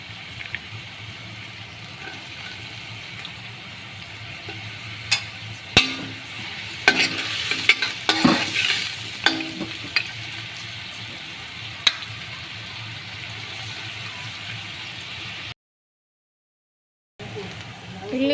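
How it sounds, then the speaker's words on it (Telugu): Onions fry with cinnamon, cloves and cardamom for prawn biryani, a close continuous sizzle with repeated clanking stirs and scrapes of the spoon, busiest midway, before a brief gap of silence. "ఉల్లిపాయలు అయితే ఎర్రగా వేగిపోయాయండి"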